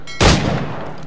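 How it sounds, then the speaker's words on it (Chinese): A single loud gunshot from the Assassin's Creed IV Black Flag video game, fired at a sentry, with a sharp blast that trails off into a long echoing rumble. "那我用枪打死他，"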